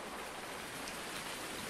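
Rain falls in the Farming Simulator 19 video game as a steady, even hiss of dense rainfall, unbroken and moderately quiet for a short stretch, with no talking.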